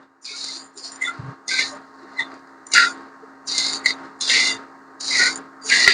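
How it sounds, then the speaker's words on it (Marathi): Poppy seeds roasted and stirred in a pan while making garam masala, giving repeated short raspy scraping strokes in an irregular rhythm, close and moderately loud, with no talking. "खसखस घालून थोडीशी परतून घेऊया"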